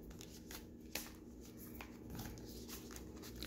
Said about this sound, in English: Shuffle these babies up just a bit.